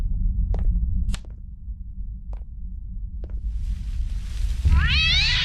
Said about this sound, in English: We got some cats screaming and yelping in the background.